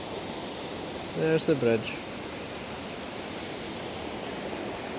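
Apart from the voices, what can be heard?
river water roaring under a Highland bridge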